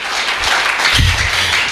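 Church congregation applauding in praise of God, a dense burst of many hands clapping together, loud and close, filling the whole short moment.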